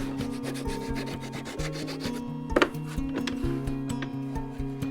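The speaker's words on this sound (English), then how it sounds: "this bottom bit we can sand and round off in any way we like" A wooden coat hook being sanded and rounded off by hand gives steady, rhythmic rubbing strokes, close and moderately loud, with a brief sharper scrape midway.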